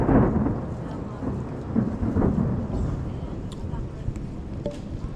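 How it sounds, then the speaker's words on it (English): A thunderstorm rolls through the Balkan mountains, with low rumbling thunder and steady rain filling the air and a few sharper cracks and drops later on. "the storm has very much rolled in"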